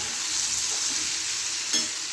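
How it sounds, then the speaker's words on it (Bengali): Ground spices, including cumin powder, frying in a pan for a vegetarian Bengali pumpkin, potato and pointed gourd chokka, giving a steady hissing sizzle with one brief scrape of the spoon, close and without speech. "আমি শুধু এই মশলাটাকে কষে নেব ভালো করে"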